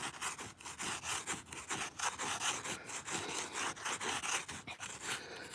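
A stick rhythmically scrapes and churns through loose sand, close up, with a fast steady series of gritty rasping strokes and no talking.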